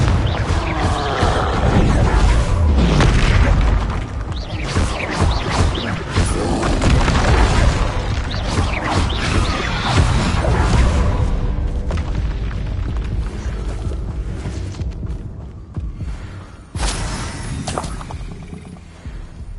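Repeated Confringo blasting-spell explosions in the Hogwarts Legacy game, a dense, loud run of booming blasts and crashes that continues nearly throughout, easing slightly toward the end.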